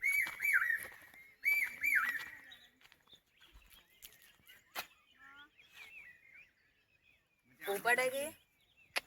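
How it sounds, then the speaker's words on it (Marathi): Birds calling in forest around a quiet village temple, with loud whistled calls up close at the start and end and fainter chirps between, while people talk nearby. "पक्ष्याचा आवाज पण इथे भारी"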